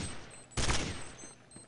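Automatic FAMAS rifle fire in a Counter-Strike style shooter match, a short loud burst standing out over quiet background game noise, with no talk during the shots.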